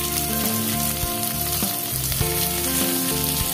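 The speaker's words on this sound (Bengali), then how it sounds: "এবার আমি পেঁয়াজটা দিয়ে দিচ্ছি।" Chopped onion added to half-fried potatoes in hot oil, a close, steady sizzle running unbroken with faint tonal background music underneath.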